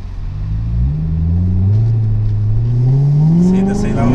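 Car engine hums while driving, a loud close drone that climbs in pitch as it gradually accelerates, with a faint voice heard at moments.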